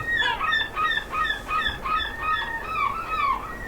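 Seagulls call in a rapid run of harsh, repeated squawks, loud and fairly close, with no voices over them.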